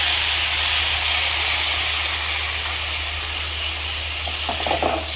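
Chicken pieces sizzle steadily in hot oil with turmeric powder, a loud, even frying hiss throughout, with a few faint clinks from a utensil near the end.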